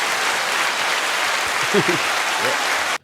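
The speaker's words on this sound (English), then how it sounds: "Get some claps for that." Steady applause from a small group of podcast hosts, a dense, even clapping that runs throughout and cuts off abruptly at the end, with a few voices speaking over it.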